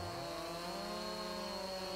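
A steady, buzzing chainsaw drone cutting a tree in Farming Simulator 22 runs without a break, faint and constant, with a high whine over a rough low rumble.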